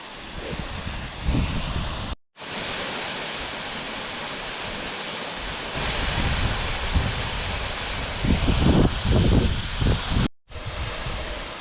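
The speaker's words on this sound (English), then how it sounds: "I mean, the nicest waterfall out here" Zebra Rock Cascades in the Wichita Mountains, the tallest waterfall there, pours as a constant broadband rush close by, with a few brief cuts and some low gusty rumbles, no voices.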